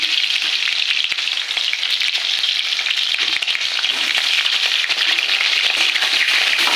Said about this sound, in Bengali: পটল এখন কড়াই দিয়ে দিচ্ছি আমি।